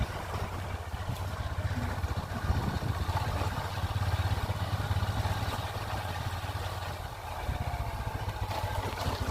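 A small vehicle engine drones steadily while the vehicle drives along a damaged village road, with a continuous close rumble and rattling clatter throughout and no talk.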